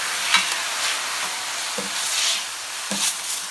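Baby carrots, Jerusalem artichokes and other small vegetables sizzling on a hot plancha griddle, a continuous bright hiss with occasional scraping stirs and soft pops, close and steady.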